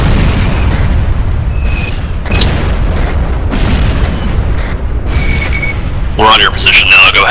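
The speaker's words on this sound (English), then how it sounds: "The mortars are getting zero in on us right now." Mortar rounds land in ArmA 3 during a co-op combat operation in Kunduz, Afghanistan: several heavy booming blasts at irregular intervals under near-constant radio chatter between players, with a sharper crack toward the end.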